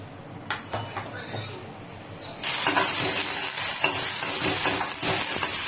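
Green chilies frying in oil in a pan, a loud steady sizzle and hiss that jumps up suddenly partway through and stays strong, with light stirring clatter underneath.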